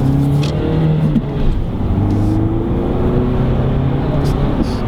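A Peugeot 508 fastback saloon accelerating in sport mode, its engine note a steady droning hum with rising tones under continuous road and cabin noise, heard from inside the car with some voices present.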